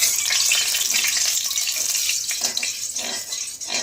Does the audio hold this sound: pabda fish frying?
yes